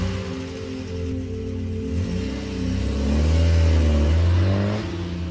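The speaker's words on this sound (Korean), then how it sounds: "주인공을 내려준 남자는 그대로 차를 몰고 떠나버립니다" A car pulling away and driving off, its low engine rumble swelling and revving up steadily as it accelerates, heard close with no voices.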